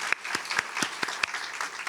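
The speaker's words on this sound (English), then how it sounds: "A big round of applause." Audience applause at a Selby Gardens orchid show garden luncheon, with a crowd clapping steadily through the whole moment and a few louder, sharper claps standing out near the front.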